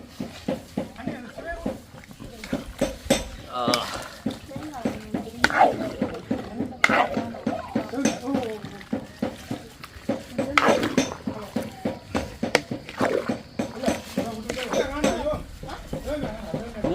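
A ladle stirs and scrapes through coconut milk curry in a metal pot, giving repeated clinks and knocks while people talk over it.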